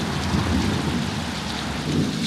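Heavy rain pours steadily with rolling rumbles of thunder underneath, a dense, continuous storm wash with no voices.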